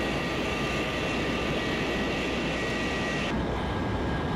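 Simulated Handley Page Victor jet engines roaring during a landing rollout in Flight Simulator X, a loud, steady broadband rumble and whine that drops slightly in tone near the end, with no talk.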